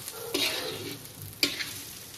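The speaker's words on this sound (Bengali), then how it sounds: "পোলাওয়ের চালটা ভাজছি, সব মেখে রেখেছিলাম," Pulao rice frying in a wok with its mixed seasonings, giving a continuous sizzle broken by two sharp scraping stir strokes of a spatula, close and fairly loud, no talking.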